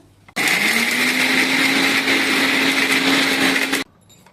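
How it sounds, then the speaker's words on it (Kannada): A small mixer grinder whirs continuously for about three and a half seconds, blending gravy paste with a spoonful or two of water for a bottle gourd kofta curry, loud and steady with an abrupt start and stop. "ಒಂದು ಸ್ವಲ್ಪ 1-2 ಚಮಚ ನೀರು ಹಾಕಿ ಮಿಕ್ಸಿ ಮಾಡೋದು"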